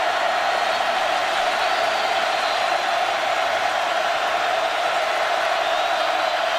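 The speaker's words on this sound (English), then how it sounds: "The crowd alive and love it." A steady, far-off roar of a stadium crowd cheering a Texas touchdown at a 2008 Texas Tech versus UT college football game, continuous and even in level throughout.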